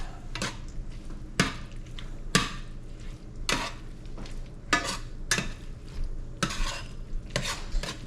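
Beaten eggs being stirred quickly into meat in a hot pan, with repeated clacking of a utensil against the pan over a steady low sizzle.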